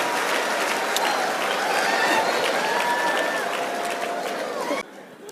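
A comedy show crowd at a leadership conference breaks into sustained applause mixed with chatter and some cheering, fading near the end as the noise drops off sharply.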